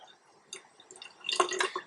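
Slow water dribbling and dripping from a three-handle Kohler kitchen faucet, faint scattered drips building into a brief louder trickle near the end.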